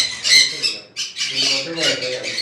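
Sun conure parrot at a conure breeding farm in Howrah squawking loudly in harsh, repeated bursts with a brief pause midway, close to the listener.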